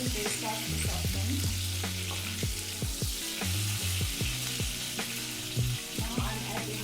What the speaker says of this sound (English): Fry them until they start to soften.